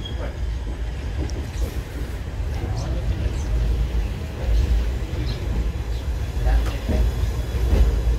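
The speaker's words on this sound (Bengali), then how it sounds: "আমাদের ট্রেনটি এখন কুচবিহার স্টেশন ছেড়ে বেরিয়ে যাচ্ছে।" Long-distance Silchar Express passenger train pulling out of Cooch Behar station, heard from inside a carriage: a continuous low rumble with rhythmic wheel clatter, and faint voices in the background.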